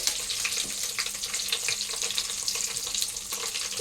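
Green and dried chilies with curry leaves frying in a pan for dal soup, a dense continuous sizzle close by with no talk over it.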